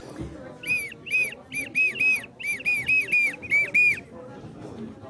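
A shrill warbling clay bird whistle blown in about a dozen short bursts, each with a trilling bird-like wobble, close and loud over faint background murmur.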